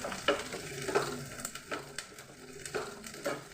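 Garlic for a garlic pickle fries in a pan while being stirred, giving soft scraping strokes every half second or so over a faint sizzle, close and moderately quiet, with no talking.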